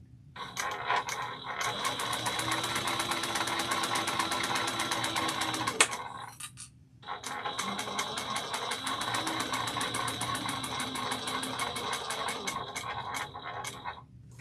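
A sewing machine stitches a backpack seam at a steady 1/8-inch allowance, a continuous close mechanical whirr that stops briefly near the middle, then resumes and runs steadily to the end.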